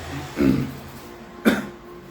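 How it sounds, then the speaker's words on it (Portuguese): A person coughs twice, a harsh rough cough followed about a second later by a shorter sharp one, close and fairly loud against a quiet background. "essa tosse me mata"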